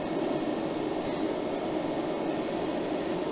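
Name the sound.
cooling fans of PowMR hybrid inverter at maximum speed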